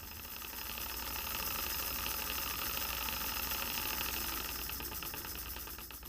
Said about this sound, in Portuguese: Quando ligamos o aparelho e aumentamos gradativamente a velocidade de rotação do motor, o pistão começa a se movimentar dentro do tubo